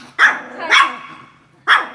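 A pet dog barks three times in two seconds, loud and close: two quick barks, then a pause before a third.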